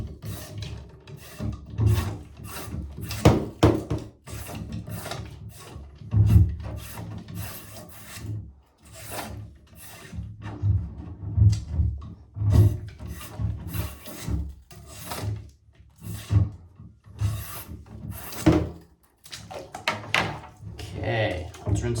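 A cleaning brush scrubs back and forth inside the barrel of a Hawkins .50 caliber black powder muzzleloader rifle, making repeated rasping strokes in an uneven rhythm. The scrubbing is fairly faint, and a voice talks intermittently alongside it.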